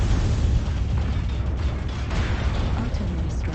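Artillery strike explosions in the video game MechWarrior Online, a dense run of deep rumbling booms and bursts rolling on without pause, loud and close for the whole stretch, with no voices over them.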